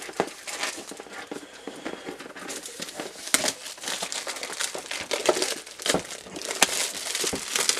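Plastic film being peeled off a Call of Duty WW2 collector's box, producing close, irregular crinkling and crackling with sharp snaps throughout, with no talking.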